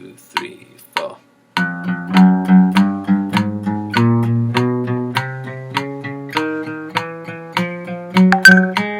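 Acoustic guitar finger exercise played two notes per beat with alternate picking: a steady run of evenly spaced plucked notes, close and clear, after a brief spoken count-in.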